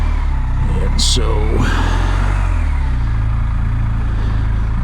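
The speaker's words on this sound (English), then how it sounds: "the engine noise shouldn't be too much of a problem" Motorcycle engine running steadily as a loud low rumble throughout, with shifts in pitch as the bike moves, while a voice talks over it.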